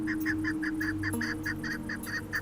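A chukar partridge in the Gobi desert gives a rapid, evenly spaced run of repeated clucking calls, fairly close and clear, over a low steady background hum.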